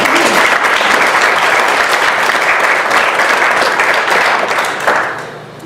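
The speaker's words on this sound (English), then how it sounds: "a round of applause for Pins." Sustained applause from a crowd at a chamber of commerce annual banquet, loud and steady throughout, fading slightly near the end.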